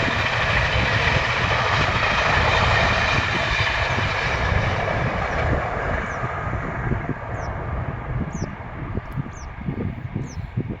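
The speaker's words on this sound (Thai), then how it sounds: "ก็มีบรรยากาศรถไฟมาให้เพื่อนๆ รับชมด้วยนะครับ" A train rumbles past nearby, a steady broad roar with rattling low clatter that eases slightly toward the end, no talking.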